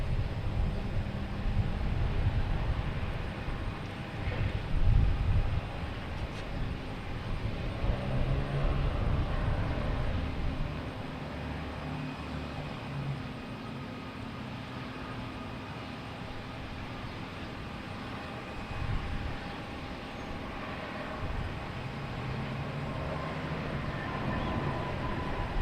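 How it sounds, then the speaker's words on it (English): American Airlines Airbus A321neo airliner departing Boston Logan, a steady broad jet roar at moderate distance that swells slightly early on and holds through the long stretch, with no talking. "Here's American Airlines and A321neo heading to Miami."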